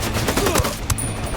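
Gunfire in the Ghost Recon tactical shooter, a loud dense burst of shots with sharp cracks over a steady rumbling game soundscape, no speech.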